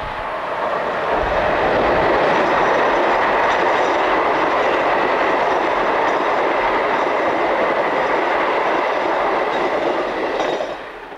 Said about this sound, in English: 15048 heads west through Saarburg, with the 1555 Strasbourg to Paris intercity service.